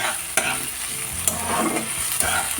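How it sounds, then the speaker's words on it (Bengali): Onions and tomatoes frying in a pan for a Bengali aar fish curry: a steady close sizzle, with three sharp spoon-scraping stirs spaced about a second apart. No voices. "পেঁয়াজ আর টমেটোগুলো দিয়ে দিয়েছি। তো এগুলো একটু লাল লাল হয়ে ভাজা হয়ে গেলে দিয়ে দেবো পেস্ট করে রাখা সেই মশলাগুলো"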